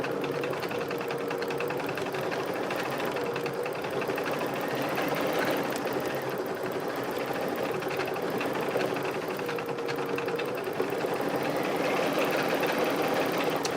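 Home embroidery machine stitching a design, a continuous rapid mechanical chatter of the needle with an engine-like whir, steady and close throughout with no speech.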